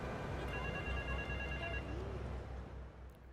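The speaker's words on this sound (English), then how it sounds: "Oh, the phone started ringing." A telephone rings inside a video game, a steady electronic trill repeating for a couple of seconds at moderate volume, with no one talking.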